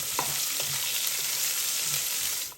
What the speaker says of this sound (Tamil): இது இவ்வளோத்தையும் போட்டு இந்த எண்ணெயில் பொரிய விட போகும்